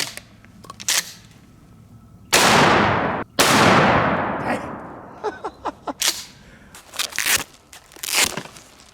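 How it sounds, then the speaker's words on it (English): A shotgun slug strikes body armor in one loud, sharp blast that rings out for about two seconds, followed by a scatter of smaller clicks and knocks. "We'll go ahead and hit it with the slug."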